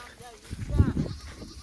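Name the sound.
goats bleating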